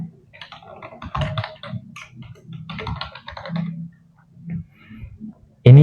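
Typing on a computer keyboard, close and fairly loud: irregular clusters of quick plastic key clicks with brief pauses between bursts, alone without any voice over them.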